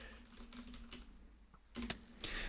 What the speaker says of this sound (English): I was typing the command